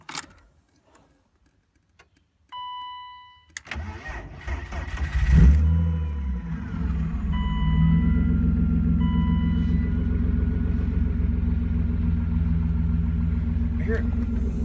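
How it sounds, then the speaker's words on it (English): BMW E36 with a newly replaced fuel pump cranks and catches after a few quiet clicks and a brief tone, then settles into a steady, loud rumbling idle with light revving, close up. "I'm gonna go ahead and start her up and see if she runs"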